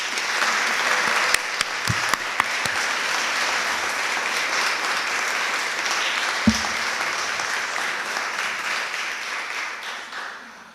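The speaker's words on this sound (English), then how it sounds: "I'd like to invite everyone to give a special round of applause for all our graduates" A crowd at a college graduation ceremony applauds the graduates, a steady, dense round of clapping lasting about ten seconds with a few sharper nearby claps, then tapering off.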